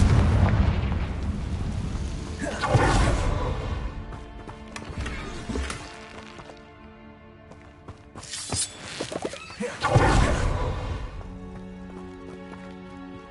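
Confringo fire spell explosions in Hogwarts Legacy on PS5 Pro, two loud blasts with rumbling tails separated by quieter stretches, plus smaller impacts in between.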